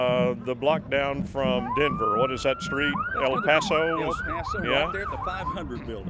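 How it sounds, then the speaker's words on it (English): Polk County Sheriff police sirens wail and yelp continuously while leading a Veterans Day parade through downtown Russellville streets, loud and close under steady conversation between people nearby. "You can hear the sirens in the background."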